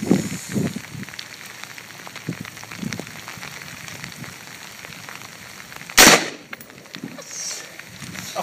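A single loud gunshot from recreational shooting cracks sharply near the end, standing out over a quiet outdoor background with scattered faint knocks and rustles.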